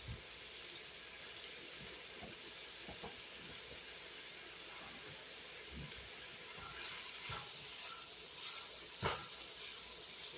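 Peppers and onions sizzle in a pan, giving a steady close hiss and crackle that swells louder partway through, with a few soft pops and no talk.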